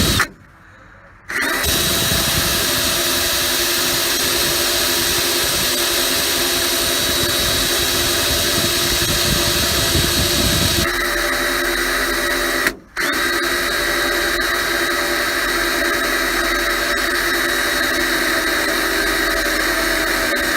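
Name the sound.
drill with bigger bit boring hole through thick steel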